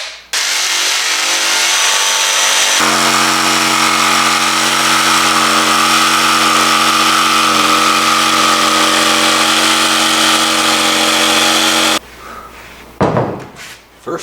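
A power saw cutting MDF while framing van windows, a loud continuous whining drone that holds steady for about twelve seconds and then cuts off, leaving a few knocks and clatters.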